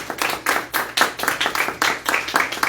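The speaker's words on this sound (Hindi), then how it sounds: "खड़े होकर जोरदार तालियां यीशु नाम के लिए" A church congregation claps loudly and rhythmically, a dense burst of hand claps in quick regular beats, close and strong throughout.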